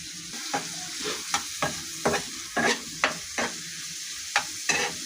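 Green chilies and chopped garlic sizzling in hot oil as fish fry is prepared, with repeated bursts of crackling and stirring strokes against a quieter hiss between them.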